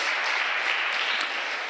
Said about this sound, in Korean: 우리 앉아 계시지만 한번 박수로 환영하겠습니다